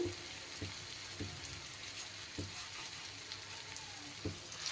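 Faint, steady sizzle of coated fish pieces frying in oil, with occasional soft knocks from a utensil at irregular intervals.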